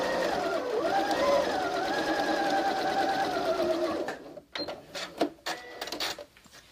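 A mechanical sewing machine straight-stitches quilting lines on a Christmas stocking. It runs with a close, loud, whining hum for about four seconds, then stops, leaving a few clicks and handling noises.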